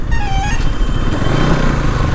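A BS6 Bajaj Pulsar NS 200 naked motorcycle being ridden, its engine a steady, loud drone mixed with rushing wind buffeting throughout, no voices present.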